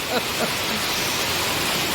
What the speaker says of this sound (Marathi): फारच जोरात पाऊस आला बाई वेडा वाकडा आणि भरपूर